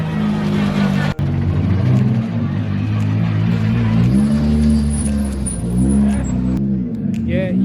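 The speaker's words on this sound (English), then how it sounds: "Here he comes, the big Hyundai." A big Hyundai rally car approaches on a cold rally stage, its engine note rising steadily and loud over continuous low rumble, with people talking close by throughout.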